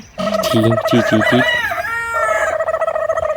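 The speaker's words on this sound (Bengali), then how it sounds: "পেছন থেকে মুরগি আওয়াজ দিচ্ছে যে আমাকেও নাও ক্যামেরায়" A rooster crows loudly and close by, its clucking, warbling call running the whole time amid a busy outdoor setting in Himachal Pradesh.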